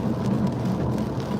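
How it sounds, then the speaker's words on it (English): Steady rain falls around a car during a drive, a dense, even hiss of drops on the surface that stays constant with no voices. "Like, it's raining, bro. It's raining."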